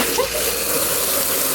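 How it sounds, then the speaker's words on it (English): Water gushes and hisses steadily into a car wash bucket, close and continuous, with no talk over it. "and then fill the rest with water."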